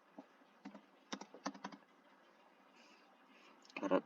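Keys tapped on a computer keyboard while entering a differential-equation command, a few quiet scattered clusters of clicks with a louder burst of rapid keystrokes at the end, close and alone.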